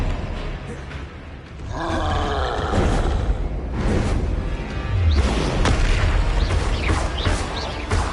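Spells cast in Hogwarts Legacy, including Expelliarmus, sound as loud magical whooshes and booming bursts with sweeping tones, repeating several times over a rumbling game soundscape.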